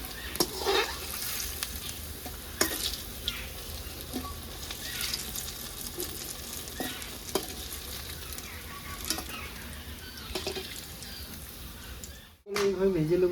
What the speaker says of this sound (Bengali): এইভাবে ভেজে নেবো।